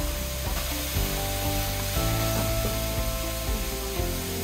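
Seasoning stir-fried in a pot ahead of adding water for a Korean soup, giving a loud continuous sizzle with a steady hiss and faint stirring movement underneath.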